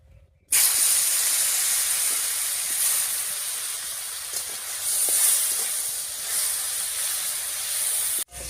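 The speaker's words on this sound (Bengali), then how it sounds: "এবার কড়াইয়ে সর্ষের তেল দিয়ে ভেজে নেব।" Dried fish frying in mustard oil in a wok gives a sudden loud hissing sizzle that starts abruptly and holds steady for about eight seconds, close and unaccompanied by speech.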